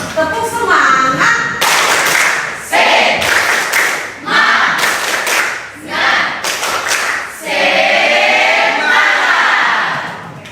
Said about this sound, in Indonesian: kita berikan tepuk semangat untuk itu semua ya